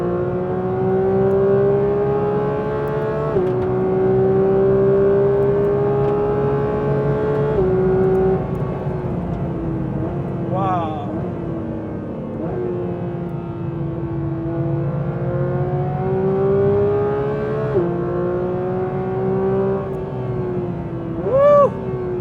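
A new Porsche 911 GT3 engine accelerates on a track straight, a loud, steady high-revving wail climbing through the gears with brief dips at each shift, heard from inside, without talking.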